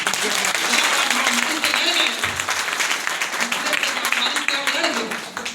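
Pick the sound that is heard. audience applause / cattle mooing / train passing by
audience applause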